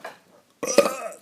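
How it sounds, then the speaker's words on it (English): A single loud, close burp rumbles out alone after a brief silence and lasts about half a second. "I have to burp so hard."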